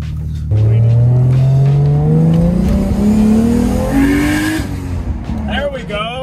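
A turbocharged Toyota Chaser with a newly fitted 1JZ engine revs up loudly, its note climbing steadily for several seconds before easing off with a brief airy rush from the turbo wastegate, close and dominant throughout.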